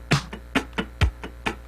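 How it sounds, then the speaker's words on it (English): Muted funk guitar scratching in even straight 16ths over a drum machine, with sharp percussive strums and kick-like thumps in a steady groove, close and without voices. "If I scratch 16ths with the drum machine"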